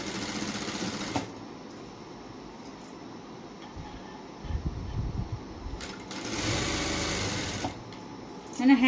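A sewing machine stitches a plain blouse in short runs, its whirring motor faint and intermittent in a quiet room.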